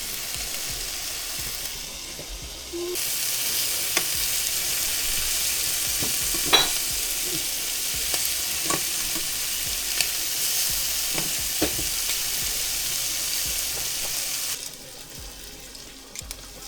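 Shrimp sizzle and fry steadily in a pan while a utensil stirs them, with scattered clicks and scrapes against the metal over the constant hiss, close and fairly loud; a brief tap-water sound may run near the end.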